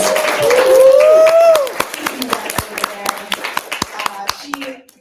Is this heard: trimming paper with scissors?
no